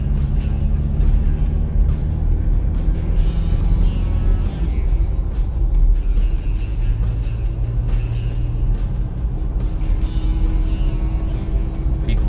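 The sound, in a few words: Toyota Land Cruiser Prado driving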